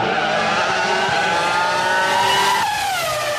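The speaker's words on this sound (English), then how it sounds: "that V10 engine in his car, so good. They just don't sound like that anymore" A high-revving V10 Formula One race car engine screams steadily at close range, its pitch holding high then dropping sharply near the end as it shifts or passes.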